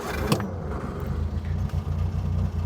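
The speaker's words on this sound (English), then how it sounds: "That classic Lucas starter sound, but is oh so familiar." A Triumph Vitesse 2-Litre six-cylinder engine cranks on its Lucas starter and fires, a brief sharp onset giving way to a steady low rumbling idle, close and alone.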